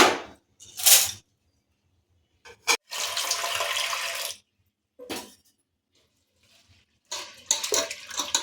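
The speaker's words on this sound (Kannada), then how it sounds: "ಬೇಳೆ ಒಂದೆರಡು ಸಲ ತೊಳ್ಕೊತೀನಿ ಇದನ್ನು" Running water and splashing as lentils are washed in a bowl, in separate bursts, swishing and pouring with quiet gaps between, close by and fairly loud.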